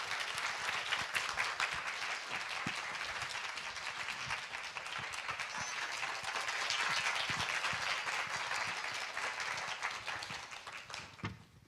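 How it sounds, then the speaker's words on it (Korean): Audience at a church talk event applauding to welcome the head of a youth-support organization, sustained even clapping from a room full of people lasting throughout, tapering slightly at the end. "우리 큰 박수로 우리 대표님을 모시도록 하겠습니다"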